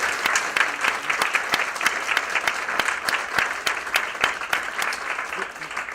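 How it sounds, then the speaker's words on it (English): An audience at a panel discussion claps steadily together, a dense, sustained round of applause filling the room at moderate loudness. "could you help me in giving a round of applause for our panelists?"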